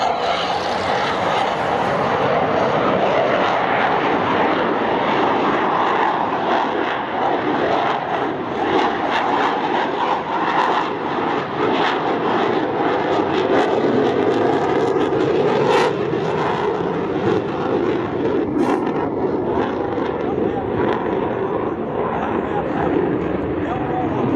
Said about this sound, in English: Watch as the pilots pitch the nose up and do the dirty roll on takeoff.